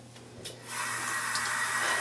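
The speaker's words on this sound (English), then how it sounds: "Okay, I'm gonna get some more water." Water runs from a tap into a sink during a 4B/C hair-care routine. It starts as a faint trickle, then quickly swells into a steady, strong rush that keeps going to the end.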